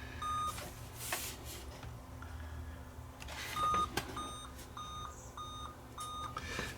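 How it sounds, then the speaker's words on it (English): An old computer with HDMI beeps at startup, a run of short, clear electronic tones spaced through the middle and end, heard over a steady room hum with faint background clatter. "Beeping 5 times."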